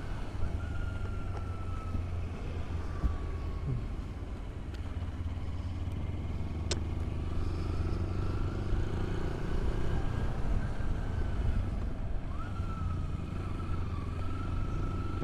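A motorcycle cruising steadily with a continuous low engine drone and wind rush, heard from the rider's position, with faint whines from passing traffic and no talking.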